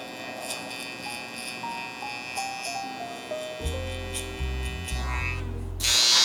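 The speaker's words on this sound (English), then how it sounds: "Using our soft trimmer, we're gonna go a finger above here, remove the bulk." A soft hair trimmer buzzes as it cuts hair during a low taper barber cut. Its steady electric hum runs throughout, growing deeper and louder partway through.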